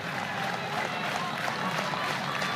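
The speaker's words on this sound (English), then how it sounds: "Sooner fans standing, clapping" Oklahoma Sooner softball fans clap and cheer from the stands during a Big 12 quarterfinal against Kansas, a steady wash of crowd applause throughout.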